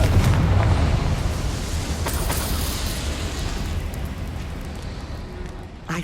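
A Confringo blasting curse goes off in the Hogwarts Legacy video game: a loud, broad explosive burst right at the start that rolls into a sustained rumbling wash of game sound, slowly fading over several seconds.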